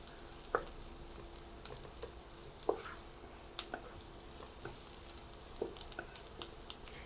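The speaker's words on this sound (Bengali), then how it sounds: "মরিচের গুঁড়াটা একটু ভেজে নিব।" Chili powder frying in oil in a pan makes a faint, even sizzle, broken by a few quiet taps and clicks from stirring.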